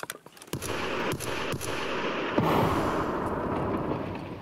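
A grenade goes off in a first-person shooter video game, a sudden blast followed by a sustained rumbling roar amid scattered sharp gunfire-like cracks, fairly loud and with no talking.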